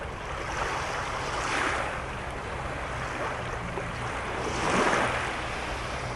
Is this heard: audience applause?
no